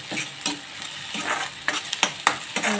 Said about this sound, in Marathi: तरी जरा वाटप मी जरा चांगला परतान घेते